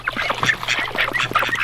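Ducks in a duck pen quack in a busy, overlapping chorus of nasal calls, close and fairly loud, with no voices.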